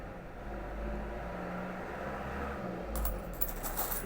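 Old 10-centavo collector coins clink together as they are handled, a few bright metallic taps near the end over a low steady background hum.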